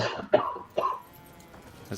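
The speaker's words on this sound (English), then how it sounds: "Cough, cough, cough." Two short, sharp coughs close together, then a quiet pause and a faint third burst near the end.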